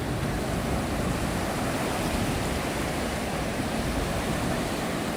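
Continuous rushing wash of waves breaking on the beach at Anna Maria Island, a dense, steady roar of surf with no distinct individual breakers and no voices.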